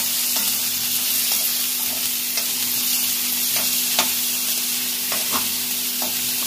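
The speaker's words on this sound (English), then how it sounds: "I am mixing all these things and frying very well." Potato pieces fry in hot oil in a pan while being stirred, giving a steady close sizzle with repeated scraping and stirring clicks scattered throughout.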